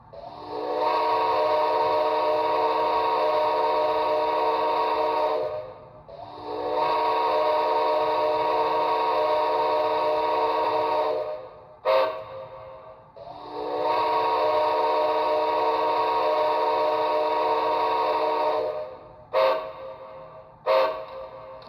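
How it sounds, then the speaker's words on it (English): Steam whistle from a Bachmann Spectrum HO scale ATSF 2-8-0 Consolidation model locomotive's DCC sound decoder: three long sustained whistle blasts of about five seconds each, loud and steady, with short chirps between the last two. "So here's the second whistle"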